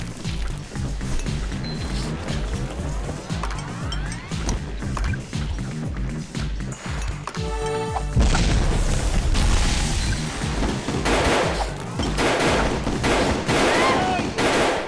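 A powerful gun fires repeatedly in the 2D arena shooter Gun Monkeys, with heavy booming shots and rapid bursts, followed by a bigger crashing blast partway through, all loud and close while a voice talks over the action.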